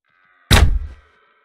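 A single close bow shot in a realistic wild boar hunting game, a sharp thwack followed by a short dull rumble that cuts off quickly, surrounded by silence.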